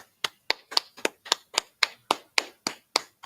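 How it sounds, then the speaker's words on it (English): A class at a Sunday scripture session claps in unison, about a dozen sharp, evenly spaced claps in a steady rhythm, close and distinct with no talk. "Let's clap it up."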